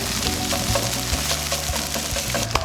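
Food browns and sizzles steadily in a hot pan, with chicken and celery cooking for a stuffing, a dense crackling hiss running throughout with low clunks of stirring.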